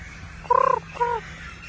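A bird gives two short, raspy calls close by, the first longer and pulsing, the second briefer, over a quiet background.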